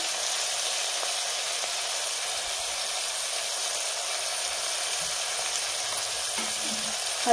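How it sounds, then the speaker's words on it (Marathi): Chopped tomatoes with turmeric frying in a pan for a spicy mixed vegetable curry with peas and beans, giving a continuous, even sizzle with faint stirring scrapes near the end. "टोमॅटो पण आपण छान मिक्स करून घेऊया. आणि ह्याच्यामध्ये आता आपण थोडीशी हळद,"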